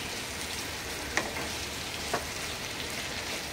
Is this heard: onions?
yes